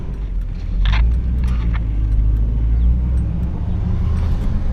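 1959 Chevrolet Bel Air with a manual transmission driving along, a steady low engine and road rumble heard from inside the car, with faint clicks over it.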